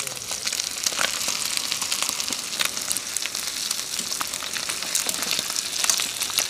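Whole fish frying in hot oil for Jamaican escovitch fish, a steady dense sizzle and crackle with scattered pops running throughout, fairly close and continuous with no talk.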